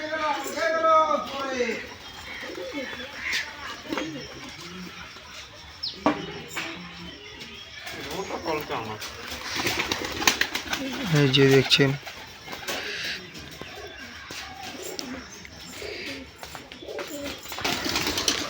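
Pigeons of the giribaz flying breed coo repeatedly at close range while being fed, with someone talking over them and other birds calling nearby.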